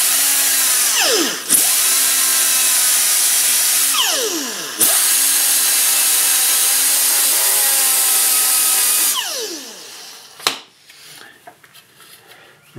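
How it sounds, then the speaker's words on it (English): An air die grinder cleaning a ground wire on a 2007 EZGO TXT gas golf cart: a loud, close, high-pitched whine that runs, spools down and restarts several times, then winds down fully with a few metallic clinks. "Use the air die grinder, angle grinder."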